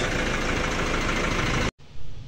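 A Nissan Navara with a faulty fuel rail sensor and low power idles close by, its loud, rough engine rumble cutting off abruptly for a moment and then resuming.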